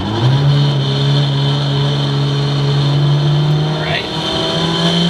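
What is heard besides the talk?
900 hp Mitsubishi Evo accelerating hard on E85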